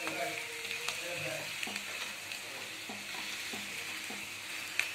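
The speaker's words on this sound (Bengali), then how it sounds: "একটু বাড়িয়ে দিই, ভালো করে ভাজা ভাজা করে নিচ্ছি" A potato paratha fries in a pan with a steady sizzle, overlaid by a few soft spatula scrapes and light taps.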